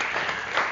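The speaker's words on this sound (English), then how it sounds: "Give them a round of applause" A brief burst of audience applause for Mummers performers, dense and even, with no voices over it.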